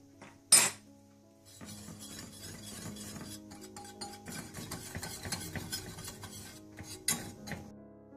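A spoon stirs salt, black pepper, red chilli powder and onion powder together in a bowl, giving soft steady scraping with a sharp clink near the start and another near the end, close and quiet with no talking.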